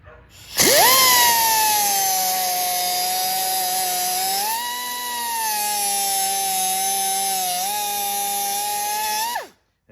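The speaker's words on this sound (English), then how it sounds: "So let's make another little relief cut there." Relief cut in 1964 Chevy Impala fender sheet metal, a close high-pitched whine from a power cutting tool that spins up and holds for about nine seconds, shifts pitch midway, then winds down.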